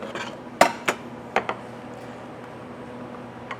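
Oyster shells clatter into a pan in a few sharp, close clinks spaced over a couple of seconds, over a low steady kitchen hum.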